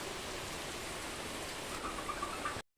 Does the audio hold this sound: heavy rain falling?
yes